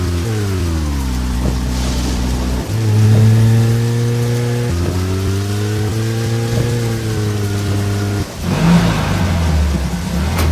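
Car driving in the video game Deadly Premonition, a steady engine drone that shifts pitch through gear changes as it accelerates, loud and continuous with rain-like hiss behind it.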